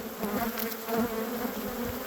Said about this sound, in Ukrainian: тепер я бджолу стрісаю